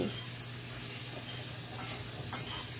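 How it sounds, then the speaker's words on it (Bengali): Pieces of bottle gourd and potato fry in a pan, giving a faint, steady hissing sizzle with light stirring sounds and no speech. "তার মধ্যে দিয়ে দিচ্ছি কেটে রাখা লাউয়ের টুকরোগুলো লাউ আর আলুটাকে বেশ ভালো করে ফ্রাই করে নেবো"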